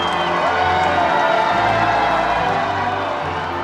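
A large crowd at the royal wedding cheers and whoops continuously, with a dense, bright roar of voices and some scattered clapping.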